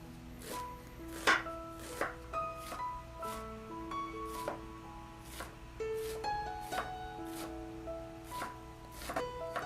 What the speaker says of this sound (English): Finely chop half onion.